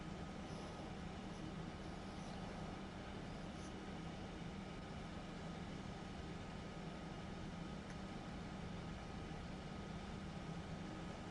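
A class 146 electric locomotive running in Train Sim World 5, a steady, faint, droning rumble with a constant low hum and rolling rail noise, unchanging throughout, with no voices.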